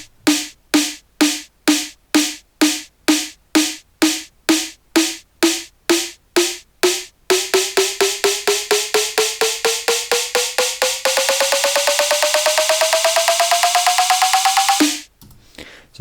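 A repeated snare drum hit that speeds into a rapid roll while a frequency shifter sweeps its pitch steadily upward, building like an EDM riser before cutting off.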